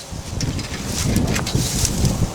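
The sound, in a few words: wind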